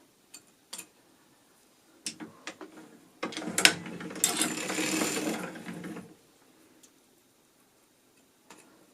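Knitting needles click while a sock is worked for a father's second pair, with scattered sharp ticks and a denser run of rapid clicking and rustling in the middle before it falls quiet again.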